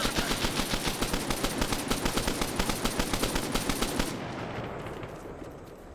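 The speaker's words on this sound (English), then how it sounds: "might mag dump it with the machine gun to destroy it" Sustained machine gun fire from a WW2 video game clatters in a fast, even burst for about four seconds, loud and close, then cuts off into a fading ringing tail.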